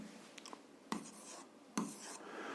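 Handwriting on paper during an algebra exercise, a few soft scratchy pen strokes with short gaps between them, close and faint, with no voice.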